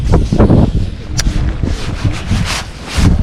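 Gusty wind buffets the microphone in loud, irregular rumbling bursts out on the water during a bass fishing trip.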